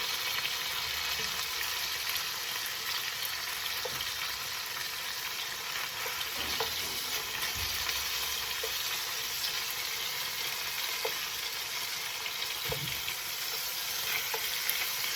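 Pork ribs sizzle and fry in a pan, a loud, continuous hiss with occasional soft knocks and scrapes as the pieces are turned, close up and without talking.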